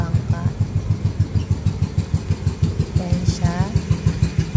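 A small passenger boat engine putters steadily nearby with a rapid, even thumping rhythm on a river crossing from Makati to Hulo, Mandaluyong, and people talk briefly over it.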